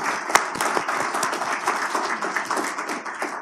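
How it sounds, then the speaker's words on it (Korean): Applause from a forum audience, a dense, continuous patter of many hands clapping close by, sharp individual claps poking out of the steady roar for the whole stretch. "다 같이 박수"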